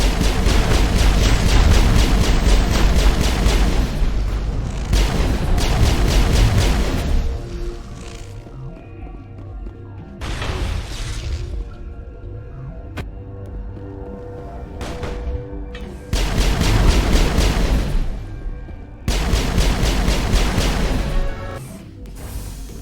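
Video game combat erupts with heavy gunfire and explosions, loud, dense bursts of crashing blasts alternating with short quieter gaps.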